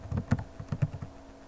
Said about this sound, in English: we can easily verify that by typing it in